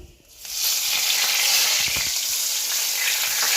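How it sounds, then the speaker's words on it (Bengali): Cumin seeds, green chillies and bay leaves hit hot oil in a pan, setting off a loud, steady sizzle that rises sharply after a brief quiet start and holds on, close and continuous, with no talk over it. "এবার একটু জিরে ফোড়ন দেব একটু কাঁচা লঙ্কা দেব এবার তিনটে দেখো তেজপাতা দিয়ে দিচ্ছি"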